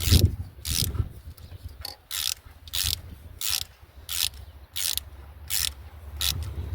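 A ratchet tightening screws on the 1.2-litre 65 hp engine of a Nissan Micra K12, crisp rhythmic clicking bursts about every 0.7 seconds, close up, with a low background hum and no speech.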